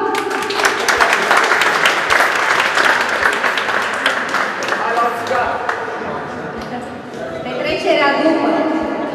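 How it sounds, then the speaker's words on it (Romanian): Audience applause at a sports club award ceremony, dense clapping with occasional sharper claps that gradually thins while a voice speaks over it toward the end. "Haideți să vă aplaudăm!"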